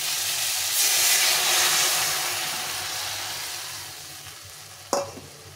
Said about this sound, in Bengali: এখন আমি এই সর্ষের জলটা দিয়ে দেবো।